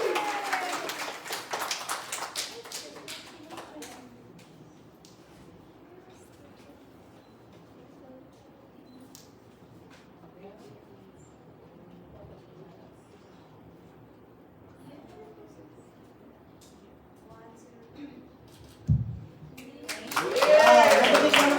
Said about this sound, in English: Another big round of applause for our team.